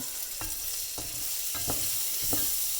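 Triple-rinsed rice toasting in bacon fat with garlic in a pan, a steady close sizzle punctuated by four scraping stirs roughly every half second to second, with no voices.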